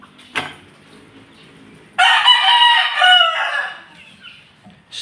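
A Pumpkin Hatch hen clucks right after laying an egg. Loud, close cackling lasts about a second and a half and fades off, after a brief sharp sound earlier.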